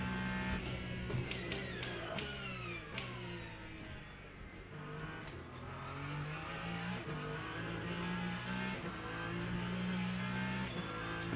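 A race car in the Le Mans Ultimate sim game lifts off the throttle and coasts into a braking zone, its engine note falling and shifting under steady loud drone, with other cars' engines mixed in.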